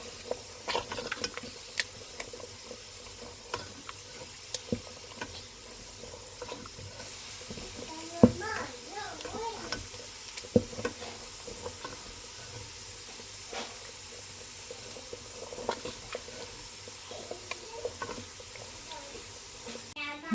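Small chopped onion sizzling in half a cup of oil while being browned for shahi haleem, a faint continuous crackle with scattered clicks and stirring scrapes of a spoon in the pot.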